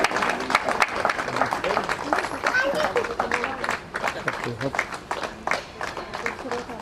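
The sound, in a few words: audience applauding during a welcome ceremony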